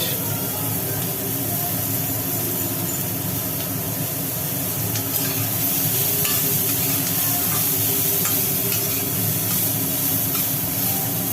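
Onion dropped into hot oil in a frying pan, a loud, dense and steady sizzle that roars on without a break and with no voices.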